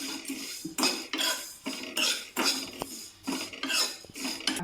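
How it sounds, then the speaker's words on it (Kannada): Dry vermicelli roasted over a low flame and stirred in a pan, giving repeated scraping and clinking bursts of a utensil against metal in a steady, close rhythm with no talk. "ಒಂದು ಪ್ಯಾನ್ಗೆ ಫಸ್ಟು ಶಾವಿಗೆ ಹಾಕ್ತೀನಿ"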